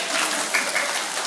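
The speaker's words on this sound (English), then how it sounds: "Everybody clap for Jack." A small audience claps for a young boy named Jack, producing a brief, steady wash of light applause with no distinct individual claps standing out.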